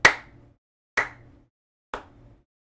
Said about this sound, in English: you hear the sound of slow applause